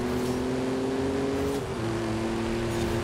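Ford Bronco engine droning steadily while driving off-road in Forza Horizon 5, a loud continuous motor hum with a brief dip in pitch partway through, heard alone without voices.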